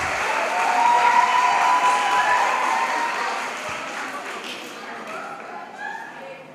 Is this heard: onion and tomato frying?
no